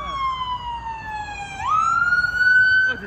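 Siren from a fire district chief's car, a wailing tone sweeping down then jumping up into a steady rising pitch, fairly close and growing louder over a low street rumble.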